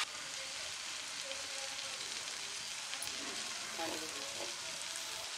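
Capsicum, mixed vegetables and prawns stir-fry in a pan for Maggi, a soft, steady sizzle with faint scrapes and light clinks of a spatula moving the pieces.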